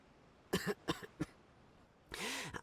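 A character in the video game Genshin Impact coughs three times in quick, separate bursts, then gives a longer, rougher hacking cough, close and clear over a quiet background.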